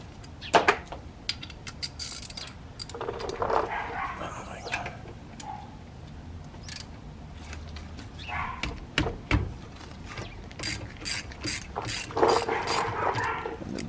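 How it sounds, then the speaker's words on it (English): A 7mm Allen socket on a ratchet loosens a brake caliper bolt on a 2007–2013 Mercedes S550, giving repeated clicking ratchet bursts and metallic clinks, close and moderately loud. "It's a 7mm socket, so that's what I'm gonna use to take the back part bolt off."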